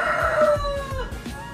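A rooster crows loudly and close by among a flock of chickens, its long drawn-out call rising and falling while hens cluck underneath.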